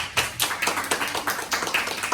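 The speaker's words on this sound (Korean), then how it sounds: "오늘 정문철 선생님께 한번 박수를 쳐줬으면 좋겠어요." Scattered clapping from a small congregation during a church youth service, a short run of uneven claps at moderate volume with no talk.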